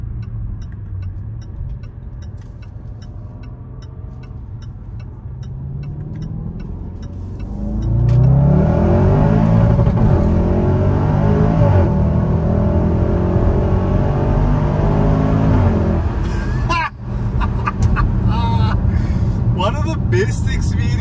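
A Range Rover SUV's engine idles at first, then surges into a loud, sustained rev around the middle that holds with a deep rumble, heard from inside the car at close range.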